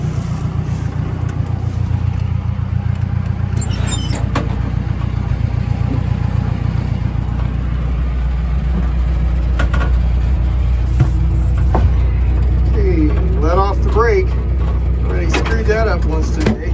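A John Deere 45 combine engine runs steadily with a low, continuous rumble and occasional rising revs as the machine moves down a road, someone speaking intermittently over it.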